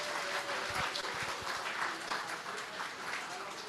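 Audience applause at a colloquium, a faint steady patter of many hands clapping that continues for several seconds, heard from a distance through a recorded online session.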